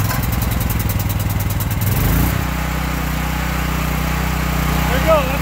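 A portable generator engine fires up and settles into a loud, steady running drone with a strong low-frequency hum, close by, with a brief voice near the end.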